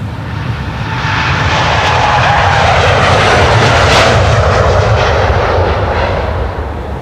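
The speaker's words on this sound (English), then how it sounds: "he can hear the airplanes leave, and that is not strange since the wind is blowing the engine sounds" Jet airliner engines roar during departure from Amsterdam Schiphol Airport, a loud sustained rumble that swells to a peak midway and holds steady with the wind carrying it, no voices over it.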